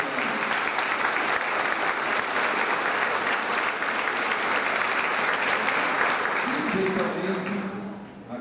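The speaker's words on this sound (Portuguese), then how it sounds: "nós gostaríamos assim de dar uma salva de palmas nesse momento da celebração" Congregation at a Eucharistic celebration of base communities in Itatiba, Brazil, gives a long, dense round of applause that fills the church, fading near the end as a voice begins to speak.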